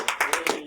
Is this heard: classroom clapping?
yes